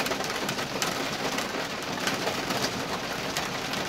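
Steady rain patters and hisses on surfaces outdoors during a thunderstorm, a dense even wash of drops with no thunder.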